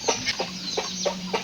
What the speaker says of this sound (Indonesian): Ai eta ayam memang sadayana.